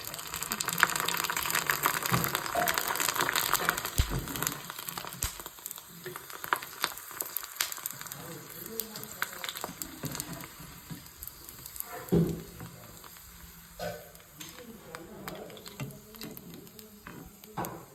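Sun-dried sandige fritters frying in hot oil, a continuous close sizzle and bubbling hiss with crackly bursts throughout.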